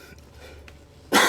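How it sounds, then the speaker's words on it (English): A single sharp cough bursts out close to the microphone right at the end, after a moment of near quiet. "I apologize for the coughing."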